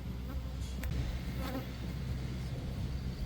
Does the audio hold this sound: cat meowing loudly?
no